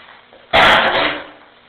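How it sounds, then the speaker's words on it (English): A single sharp, throaty cough close to the microphone, fading quickly into quiet. "Sorry about the cough."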